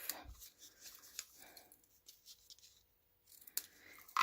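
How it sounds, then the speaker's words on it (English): Scissors snip off thread while a stitched card is finished, giving a few close, crisp cuts with faint rustling between them. "And then just snip that off."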